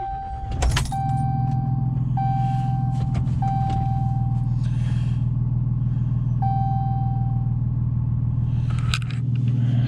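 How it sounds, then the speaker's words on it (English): A 2018 Ram diesel truck, deleted, with a six-speed manual and a 4-inch eBay muffler, starts up and settles into a steady, deep low grumble, with a few brief chimes and clicks near the start and end. "let's go ahead and get this truck fired up"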